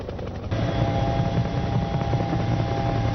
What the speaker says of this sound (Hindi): हेलीकॉप्टर की आवाज है